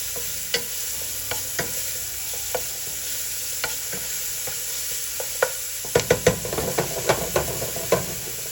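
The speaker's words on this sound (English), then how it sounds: "we're gonna add our ginger, garlic, and green onion." Ginger, garlic and green onion sizzle steadily in hot olive oil over medium-high heat, a constant frying hiss with sharp ticks and crackles that grow busier toward the end as the pan is stirred.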